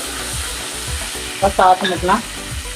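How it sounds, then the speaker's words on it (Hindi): Onion and tomato frying with browned garlic in a pan give a loud, steady sizzle with stirring, while a voice speaks briefly over it. "इसके अंदर हम प्याज और टमाटर शामिल करते हैं। इसको लाइट सा फ्राई करेंगे"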